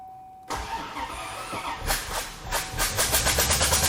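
A C4 Corvette, a wrecked project car, cranks briefly and then catches. Its engine settles into a loud, close, rhythmic idle with pulsing beats that grow steadier toward the end.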